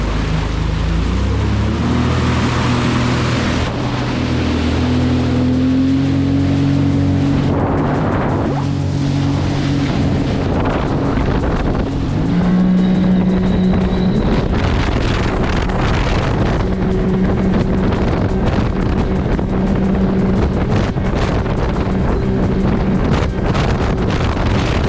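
A 2022 Sea-Doo Spark Trixx personal watercraft fitted with a Solas impeller cruises steadily, its engine drone loud and continuous, with heavy wind buffeting across the microphone and water rushing underneath throughout.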